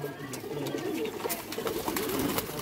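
Golden pigeons cooing steadily at close range, soft repeated throaty calls overlapping in a continuous murmur with faint background chatter.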